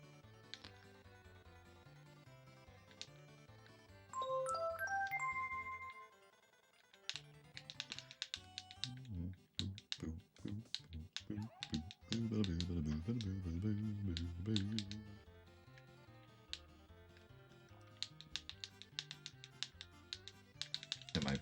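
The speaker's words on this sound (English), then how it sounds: "And my PS1 controller is so clicky." Fast clicking and tapping of PlayStation controller buttons comes in irregular bursts over game music and tones, quiet and close, with a brief lull partway through.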